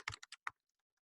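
Someone types on a computer keyboard while entering registration details, a quick burst of four or five close, crisp keystrokes followed by a couple of faint taps, with nobody talking.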